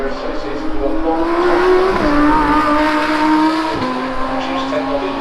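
A McLaren F1 GTR race car on straight pipes at the Goodwood Festival of Speed 2021 roars close and loud, its engine pitch climbing through gear changes with brief shift drops.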